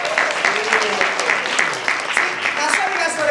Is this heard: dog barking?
no